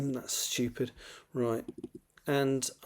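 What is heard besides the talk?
None of the usual background noises is heard.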